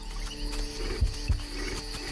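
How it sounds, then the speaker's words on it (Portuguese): Lions give two deep, short roaring grunts about a third of a second apart, heard over a steady outdoor wilderness background at moderate distance. "Leões."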